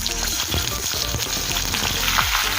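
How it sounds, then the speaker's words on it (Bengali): Washed, drained chicken pieces fry in hot oil, a loud, dense sizzle close by with steady crackling and spitting throughout. "এখন এই তেলের মধ্যে দেবো ভালো করে ধুয়ে জল ঝরে রাখা চিকেনের পিস"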